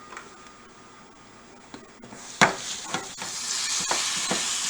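Carrots simmer in a pan with garlic, giving a soft steady hiss and sizzle that swells partway through, punctuated by a few sharp clicks and taps from a spatula or utensil.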